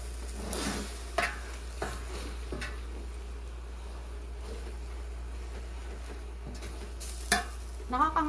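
Food simmering in a long pot is stirred, with scraping, clinking strokes of a utensil against the metal at irregular intervals over a steady low boiling hiss.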